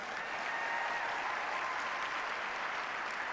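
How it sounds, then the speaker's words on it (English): Large crowd applauding mentors and coaches at a FIRST Tech Challenge robotics regional opening ceremony, a steady dense wash of clapping filling the hall evenly throughout. "How about a big round of applause for our mentors and coaches?"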